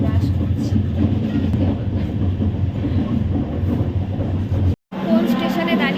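A passenger train sits at a railway station on the way to Haridwar, India, with a loud, continuous low rumble and clatter, a brief cut to silence near the end, and voices talking over it.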